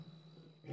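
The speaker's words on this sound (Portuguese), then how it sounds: "O urro do leão é emocionante." A lion roars at night on a South African safari, a short low rumble swelling at the end against a steady faint background hum, heard close to a vehicle.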